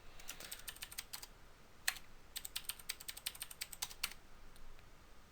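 Quiet keystrokes on a computer keyboard while entering a network configuration command, short bursts of clicks with brief pauses, close and faint, no talking.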